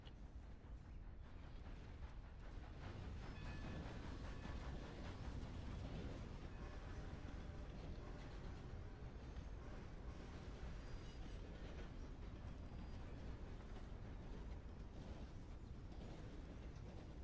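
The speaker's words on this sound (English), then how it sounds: "There's another train coming." A train rolls past in Red Dead Redemption 2, a steady low rumble of wheels and cars with metallic creaks and clanks that holds loud and even for the whole stretch, with no talk over it.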